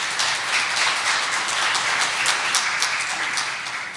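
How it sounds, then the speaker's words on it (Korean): A church congregation at a Sunday Lent worship service gives warm, continuous applause for the foreign singers who performed a Korean hymn. The clapping is steady and dense and is heard alone, without talk. "우리 스카스에게 다시 한번 격려의 박수 부탁드립니다."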